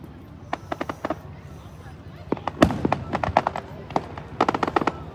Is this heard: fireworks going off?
yes